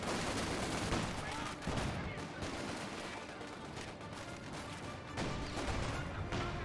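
Battlefield gunfire in Company of Heroes 2 crackles in rapid, overlapping rifle and machine-gun bursts with occasional heavier bangs, dense and continuous at moderate level.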